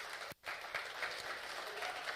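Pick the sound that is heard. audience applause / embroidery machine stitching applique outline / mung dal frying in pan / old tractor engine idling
audience applause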